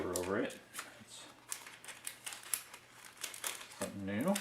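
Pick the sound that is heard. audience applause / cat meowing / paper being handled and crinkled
paper being handled and crinkled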